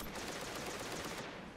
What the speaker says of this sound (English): Now I just got to keep the pressure on with the hand cannon.